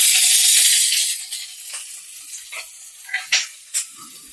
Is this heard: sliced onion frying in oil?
yes